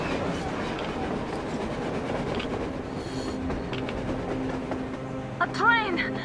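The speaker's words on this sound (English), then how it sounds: "A train! A damn train on the surface!" Train rolling across the surface in the video game Metro Exodus, a continuous rumble and rattle of rail cars with a brief squeal near the end, heard under excited voices talking.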